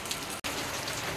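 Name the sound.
rain falling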